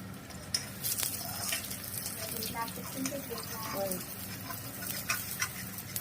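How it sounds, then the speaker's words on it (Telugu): Egg rice fries in a pan with a low sizzle while a spatula stirs and scrapes in occasional clicks, close but fairly quiet, with soft background noise and no clear talk. "ఇదంతా మంచిగా ఫ్రై అయిపోవాలి."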